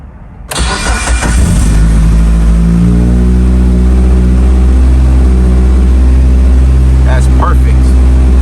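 A Mitsubishi Evo RS on a full standalone ECU cranks and fires from completely cold after a short silence, then settles into a loud, steady, close-up idle with a few brief voices near the end.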